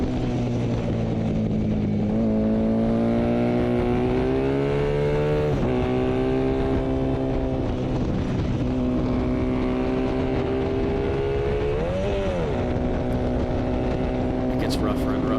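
A 1984 Honda VF500F motorcycle engine drones steadily on a race track, its pitch rising and falling with gear shifts and throttle changes, loud and close throughout.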